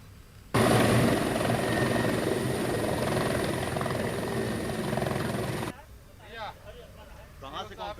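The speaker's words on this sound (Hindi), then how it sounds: "योगी आदित्यनाथ के हेलीकॉप्टर की वाराणसी में इमरजेंसी लैंडिंग करानी पड़ी।" A helicopter is heard flying loud and close for about five seconds with a steady rotor and engine roar, then cuts off, leaving faint background sounds.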